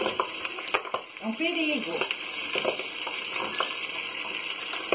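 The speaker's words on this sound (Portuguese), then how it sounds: "O feijão, olha lá, ó, tá fervendo" Beans boiling hard in a pot on a morning kitchen stove, a steady loud sizzle with frequent sharp spatters and pops, while someone speaks briefly over it.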